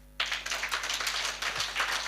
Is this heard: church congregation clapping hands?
yes